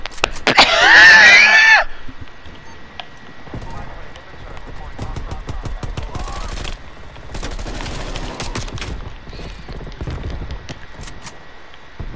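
Pistol gunfire in Call of Duty Black Ops Cold War multiplayer, with a loud burst of shouting up front, then repeated sharp shots and game action over several seconds.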